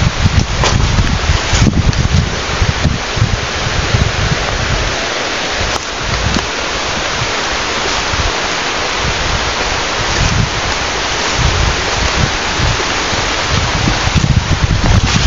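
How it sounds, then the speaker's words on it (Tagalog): Heavy rain pours steadily and loudly as a dense, continuous hiss and roar, with gusty rumbling in the low end throughout. "lakas na ng ulan doon. Pati dito."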